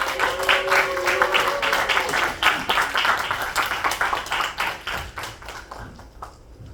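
Applause from a chapel gathering greeting a guest speaker, a moderately loud crowd of distinct claps with audible individual hand strikes, a brief voice early on, the clapping thinning and fading toward the end.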